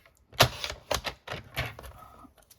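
A paper trimmer slices through decorative winter scrapbooking paper in several sharp, dry cutting strokes separated by short pauses, close and crisp, with no talking.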